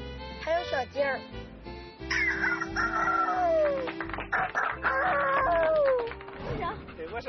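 A voice imitates a chicken and rooster, with clucking and drawn-out crowing calls in loud, close bursts during a break in working-dog training in the countryside.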